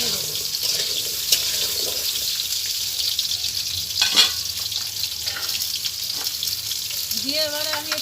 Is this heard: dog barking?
no